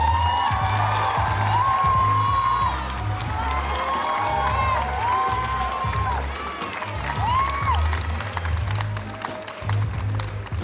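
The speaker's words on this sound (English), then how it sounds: "Let's give a round of applause for Dr. Loxine and Judge Woodson." Audience at a Filipino American student culture night at William & Mary breaks into loud, sustained applause with cheering and whoops filling a large hall, a voice briefly audible through the crowd noise.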